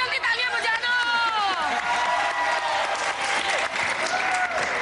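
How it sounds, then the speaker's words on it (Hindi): Audience clapping loudly and continuously in a studio crowd, dense steady applause mixed with cheering voices and babble throughout. "जल्दी तालियां बजा दो।"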